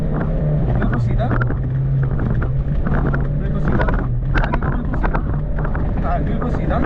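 Rally car engine under hard acceleration on a Dunecross 4.0 desert rally stage, a loud continuous drone with wind buffeting, heard from inside the car while a co-driver calls out pace notes throughout.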